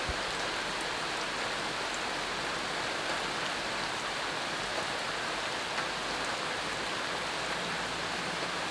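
Steady rain falling, a dense even hiss of drops on surfaces, continuous and unchanging throughout.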